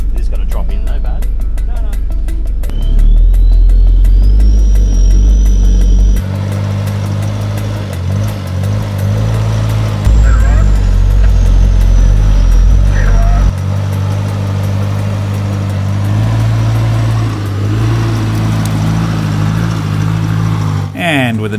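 An off-road vehicle grinds up a steep track with a loud, close engine that rises and falls as the throttle shifts, while people talk over the steady drive.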